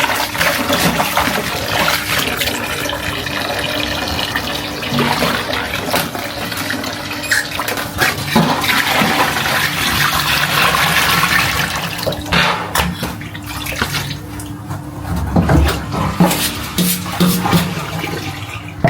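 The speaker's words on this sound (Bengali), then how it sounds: "এই যে আমাদের মাছ হচ্ছে ধোয়া হয়ে গেছে" Fish being washed by hand in a basin of water, with steady sloshing, splashing and pouring that swells and fades over a long stretch, loud and close, with no talk.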